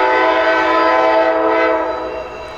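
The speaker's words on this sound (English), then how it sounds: "The horn sounds like a Dash 8 era GE locomotive." A loud, steady GE AC44CW locomotive horn blares in one sustained chord up close, then fades slightly toward the end.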